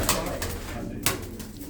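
Pigeons coo softly in a loft, low, throaty calls repeating over a steady background hum, fairly close and unaccompanied by talk.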